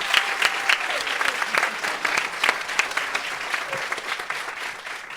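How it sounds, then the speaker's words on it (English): Audience at a live politics show applauding, a dense continuous wash of many hands clapping at fairly close range, steady for several seconds with a slight fade toward the end. "So give them a round of applause."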